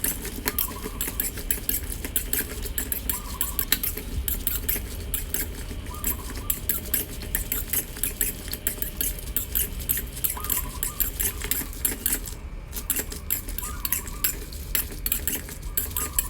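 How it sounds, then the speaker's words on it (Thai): Lemongrass, kaffir lime leaves and dried chilies dry-roast in a pan for catfish tom yum. Busy, continuous rattling and clicking as the dry pieces are tossed and stirred against the metal, close and steady, with no speech. "คั่วขาตะไคร้ ใบมะกรูดฮะ แล้วก็พริกแห้งที่ผมจะใส่นะฮะ คั่วหอมนะครับ"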